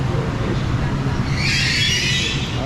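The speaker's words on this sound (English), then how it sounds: "Nice train." A train at a station near Rome, its low rumbling hum steady throughout with a bright metallic squeal rising partway through.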